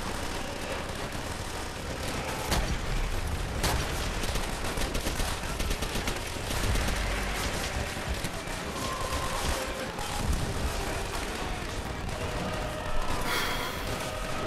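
Machine gun fire in Call of Duty: World at War pours out as a loud, dense, unbroken stream of rapid shots and blasts, with hardly a pause across the whole stretch.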